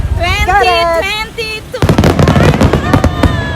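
A voice speaks over a quieter stretch before dense fireworks at the Kameoka festival take over, a rapid barrage of loud booms and crackling bursts rolling on continuously.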